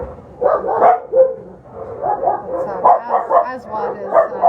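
Dogs barking and yipping at an animal shelter near the quarantine kennels, loud repeated barks and whimpers close by, mixed with voices talking.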